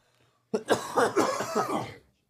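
One person coughs after smoking hash, a burst of several harsh, rasping coughs lasting about a second and a half, close and loud after near silence.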